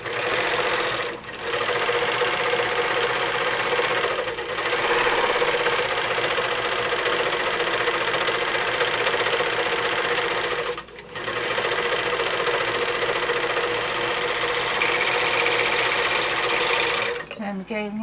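Serger overlocker stitching fabric, a continuous loud mechanical whirr running close by with a few brief stops and restarts, and a faint voice now and then.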